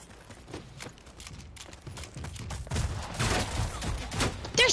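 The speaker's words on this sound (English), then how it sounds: "They're all using shotguns." Shotguns fire in rapid, overlapping bursts during a video game firefight. The blasts grow louder and denser toward the end.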